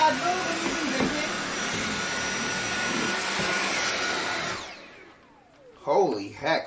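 A Dustbuster 9000 handheld vacuum cleaner runs with a loud, steady high-pitched whine for about four and a half seconds, then winds down and stops, followed by a few brief bumps and handling noises.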